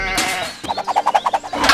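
Sheep bleating close by, a drawn-out call that breaks into a quick series of about ten rhythmic wavering pulses, with no talk over it.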